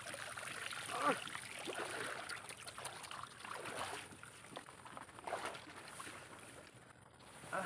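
A fast, swift water current rushes and gurgles steadily near a small boat during a fishing trip for crabs and fish, a moderate continuous wash with faint knocks.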